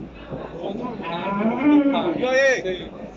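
A dairy cow moos at a livestock market in Vakhsh, a single drawn-out, rising-and-falling low call close by, with light background murmur.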